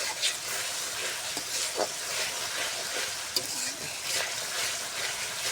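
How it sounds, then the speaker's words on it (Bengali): Spices frying in a pan for a beef and new potato dish, a steady soft sizzle broken by scraping stirs and a few sharp clinks of the spoon, close and moderately quiet. "আমি মশলাটা সুন্দর করে ভাজা ভাজা করে নিচ্ছি"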